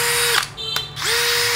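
A Hikoki DV12DD cordless drill whines steadily at close range, briefly easing off and changing pitch twice before spinning back up to full speed, with no talk.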